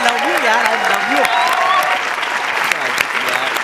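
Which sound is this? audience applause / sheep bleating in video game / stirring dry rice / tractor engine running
audience applause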